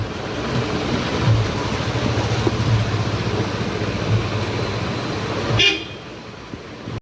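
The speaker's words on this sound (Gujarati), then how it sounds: "ફિટ કરવાના છે હોર્ન." A newly fitted vehicle horn is tested at a garage: several short honks sound close and loud over a steady background of traffic and engine noise, then cut off abruptly.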